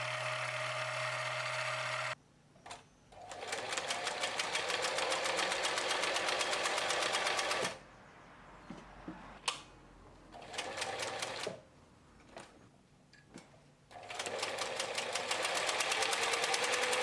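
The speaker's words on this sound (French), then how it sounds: "La machine coud" A sewing machine repaired with a 3D-printed part, running and stitching in fast mechanical bursts, several stretches of steady clatter separated by brief stops and quieter handling noises.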